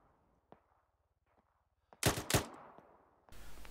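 Gunfire in the military video game ArmA 3: two loud, close, echoing shots around the middle, followed by a burst of noisy fire, after a few faint distant cracks over low idle rumble.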